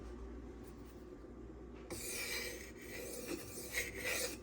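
A Custom Knife Factory Evo 3.0 knife blade is drawn across a 2500 grit sharpening stone, giving a steady, close scraping rasp that starts after a quiet pause and continues in repeated strokes.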